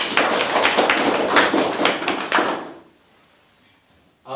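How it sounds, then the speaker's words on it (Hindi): An audience claps hard at a small village gathering, a dense, loud burst of hand claps with a few sharper beats that stops abruptly, leaving near silence before a voice starts again. "जोरदार ताली।"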